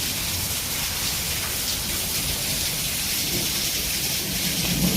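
Steady rain hisses and drums on surfaces while low rumbling thunder rolls underneath, a continuous, fairly loud wash that stays unbroken with no voices.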